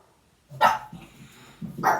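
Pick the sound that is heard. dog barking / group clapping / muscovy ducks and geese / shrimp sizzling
dog barking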